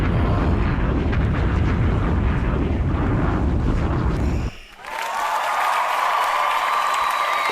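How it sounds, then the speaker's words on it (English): A loud, dense burst of crowd applause and noise fills the first four seconds, then cuts abruptly to a brighter, whooshing roar that continues steadily to the end. "Round of applause."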